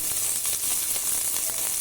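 Steady, bright sizzling of chopped onions frying in a hot pan, continuous and close, with faint crackles throughout and no voices.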